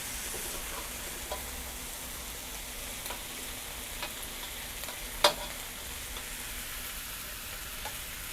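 Dry stir-frying of spicy Thai mackerel in a pan, a steady, fairly quiet sizzle with light scraping stirs and one sharp clink near the middle.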